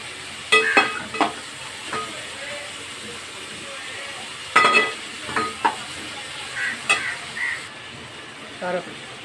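Onions fry in oil as a spoon stirs and scrapes the pan for a tomato thokku, steady sizzle broken by clusters of clinking scrapes at close range.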